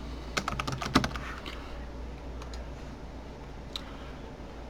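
Typing a search query on a computer keyboard, a burst of quick close key clicks early on, then a few scattered taps over quiet room hiss.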